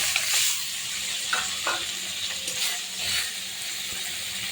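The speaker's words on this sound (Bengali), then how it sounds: "আমি এবার মাছ দিয়ে দিচ্ছি, যে মাছ কেটে রয়েছে ধুয়ে রাখা" Pieces of cut, washed hilsa fish dropping into hot oil in a kadai, giving a steady broadband sizzle with a few scraping, clicking touches over it, close and moderately loud, with no talking.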